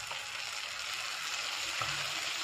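Tomato and onion mince fries in a pan, a soft continuous sizzle and crackle, faint and steady throughout.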